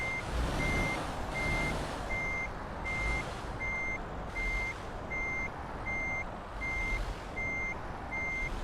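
Truck reversing alarm in Euro Truck Simulator 2, a steady run of evenly spaced electronic beeps repeating about once per second over a constant engine rumble, with no talking.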